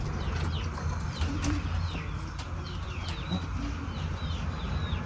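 Caged pigeons, some sitting on eggs, make soft cooing and rustling amid a busy, constant farmyard background with faint clucks and chirps nearby, no speech.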